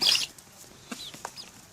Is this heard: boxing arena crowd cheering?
no